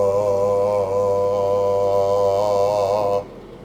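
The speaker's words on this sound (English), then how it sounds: "My chest voice or modal register, the lower part before the first passaggio, would sound like this." A man sings and holds a low G2 in full chest voice, a steady sustained tone with slight vibrato, close and loud, ending abruptly after about three seconds.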